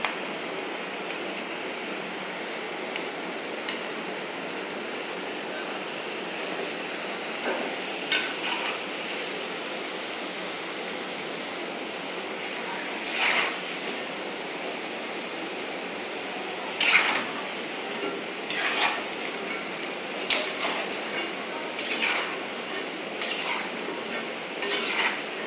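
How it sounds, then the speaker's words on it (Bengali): Potato french fries crackle steadily in hot oil during a second crisping fry, a constant sizzle with occasional sharper pops and scrapes toward the end, no talking. "দেখুন আমি লাল লাল করে ভেজে নিচ্ছি।"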